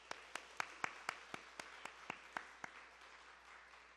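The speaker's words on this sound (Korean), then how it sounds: "우리 박수로 환영하시겠습니다" A Korean church congregation at Sunday morning worship claps to welcome a newly registered deacon: about a dozen soft, evenly spaced claps, fairly distant and quiet, tapering off near the end with no talk.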